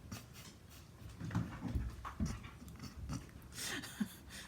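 A dog panting and moving about nearby, with rapid soft breaths, shuffling and small mouth noises at a moderate, uneven level, no talk.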